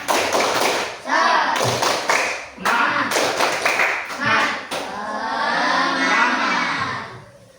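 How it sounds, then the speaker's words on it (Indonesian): A primary school class of fifth graders performs a rhythmic group clapping chant in a classroom, with bursts of claps and thumps in patterned sequences, children's voices mixed in, followed by a steadier stretch of crowd clapping. "Kita tepuk semangat terlebih dahulu ya, untuk menambah semangat belajar pada hari ini."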